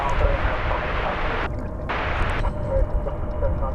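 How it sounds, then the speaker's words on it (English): A Boeing 737-900 airliner passes at DFW Airport with a loud, broad engine roar that holds steady for several seconds, close and unbroken, with no voices. "That is a 737-900."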